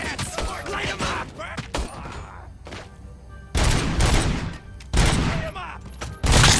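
Gunfire crackles through a Robocop: Rogue City firefight in bursts, with sharp rapid volleys, heavy thumping impacts and quieter gaps between, loud and close, with voices shouting at times.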